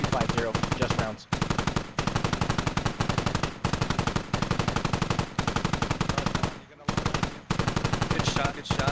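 Sustained machine-gun fire in a military video game pounds out in long, loud, evenly paced bursts separated by short gaps, dominating the whole stretch.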